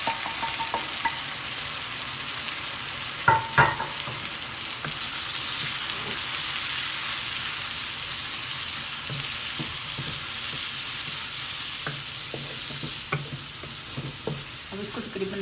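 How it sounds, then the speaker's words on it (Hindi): Spices sizzle and fry in a pan for a white chana pulao, a steady crackling hiss broken by a few sharp clinks of a spoon stirring, with no talking. "अब इसको तकरीबन 2 मिनट के लिए मसालों को भूनने दें।"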